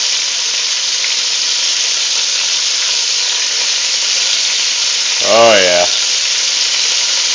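Lean hamburger sizzles steadily in hot bacon grease, a constant broad frying hiss throughout, with a brief voiced remark near the end.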